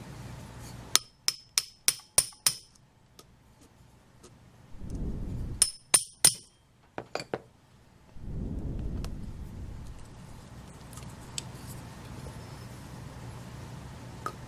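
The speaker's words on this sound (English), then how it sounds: "snip the excess off, and lightly rivet those on there" A small hammer taps metal rivets onto a leather fidget in quick, light strikes, first in a run of about six and then in short bursts, with brief rustling between the groups.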